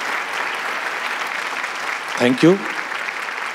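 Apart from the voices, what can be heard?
loud applause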